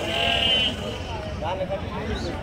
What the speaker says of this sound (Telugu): ఇవన్నా మేకలు